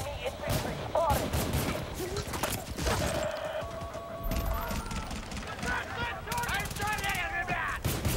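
Gunfire in Bad Company 2 multiplayer, repeated sharp shots and bursts of automatic fire in an ongoing battle, close and loud, mixed with game voice callouts and other chatter.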